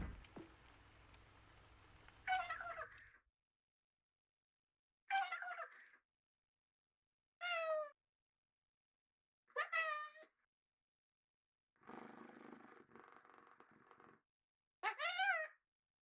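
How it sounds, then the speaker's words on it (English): A cat meows repeatedly in separate short calls spaced a few seconds apart, close and clear, with brief quiet gaps between them and a softer breathy sound in between. "I want to hear what the cat has to say."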